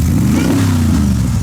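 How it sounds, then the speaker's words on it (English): A supercharged Cobra replica's engine revs loud and close at a car show, a throaty, rising roar held for a brief moment. "So here we have a Cobra like mine, but with a supercharger fitted to it"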